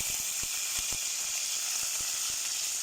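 Mustard seeds splutter in hot oil in a pan for sambar, a close, steady sizzle broken by sharp, scattered pops at an irregular rhythm, with no voices.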